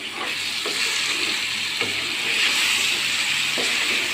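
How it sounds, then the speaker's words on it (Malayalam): Jackfruit cooks in ghee in a pan while being stirred and mashed, a loud constant sizzle and hiss broken by several sharp scraping strokes of the spoon against the pan. "ഇളക്കിക്കൊണ്ടിരിക്കുമ്പോൾ തന്നെ ഒന്ന് ഉടച്ചും കൊടുക്കാം."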